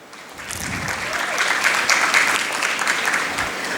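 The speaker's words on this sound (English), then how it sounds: "please welcome all our presenters with a warm round of applause" Delegates at a professional knowledge-session conference on startups and capital markets give presenters a steady, warm round of applause, loud and continuous with no speech over it.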